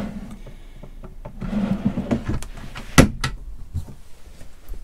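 A drawer in a Swift Kon-tiki 794 motorhome is worked, giving a series of wooden slides, knocks and one sharp loud clunk near the middle, close and clear with no talk.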